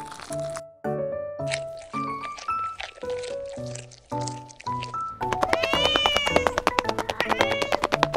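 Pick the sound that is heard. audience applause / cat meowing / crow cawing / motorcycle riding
cat meowing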